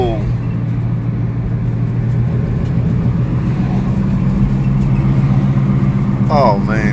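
A front-wheel-drive Jeep Compass with a CVT transmission roars while driving, a loud, steady low drone and road rumble throughout, with a voice briefly heard near the end.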